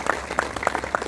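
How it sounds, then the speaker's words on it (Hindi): Audience applause at a career guidance event at Career Point University, a short burst of scattered clapping in a hall, moderately loud and steady throughout. "आप एक बार मैम के लिए भी तालियां बजा दें।"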